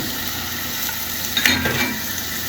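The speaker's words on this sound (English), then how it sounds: "All right, let's put in our bacon." Bacon sizzles loudly in a hot pan, a dense steady crackle with a brief burst of sharper spitting partway through, no voices.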